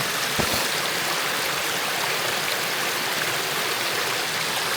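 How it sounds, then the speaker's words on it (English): A forest stream flows steadily on a freezing early morning among snow and ice, a constant close rushing wash with one brief low knock near the start and no voices. "This water's flowing"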